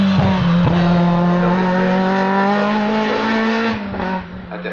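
Race cars at the 2018 Hébécrevon hill climb roar past close and loud, one engine screaming at sustained high revs with a steady whine before the sound drops away slightly at the end.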